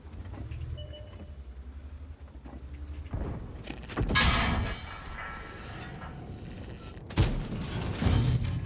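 Tank cannon fire from armor-piercing rounds in the World of Tanks game, heavy booming shots with rumbling engine noise, two sharp loud blasts standing out over a steady mechanical drone.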